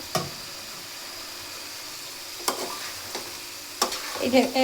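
A spoon stirs curry frying in a pan just after tomato sauce goes in: a low sizzle throughout with sharp scraping strokes at irregular intervals, loudest toward the end.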